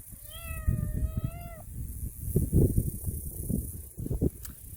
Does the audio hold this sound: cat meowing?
yes